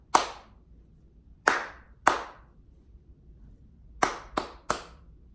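Six sharp hand claps in a classroom rhythm exercise on syncopation, two spaced beats, then a gap before a quick cluster of three, each crisp and close in a quiet room.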